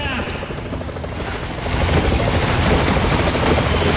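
A helicopter whirs loudly in the Double Dragon Neon boss fight, its rotor drone swelling midway and joined by rapid bursts of game gunfire and booms.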